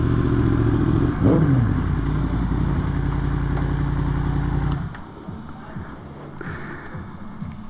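Loud, close rumble from a Yamaha FZ-10 sport motorcycle's engine as it rolls in to park at a bike night. A brief rev rises around a second in, then the engine cuts off near the five-second mark, leaving quieter background clatter.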